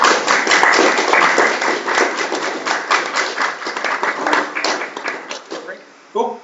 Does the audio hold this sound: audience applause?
yes